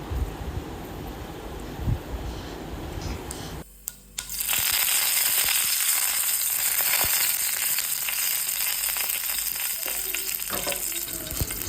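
Mustard seeds and curry leaves hit hot coconut oil in a pan and erupt into a sudden, loud, crackling sizzle that carries on steadily after a quieter opening.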